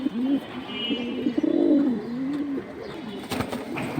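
Pigeons cooing close by, several soft rolling coos in sequence with brief pauses, plus faint background chirps and a short rustle near the end.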